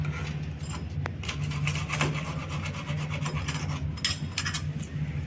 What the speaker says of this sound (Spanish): Luego cortamos ahí y dejamos que quede parejito con el otro tubo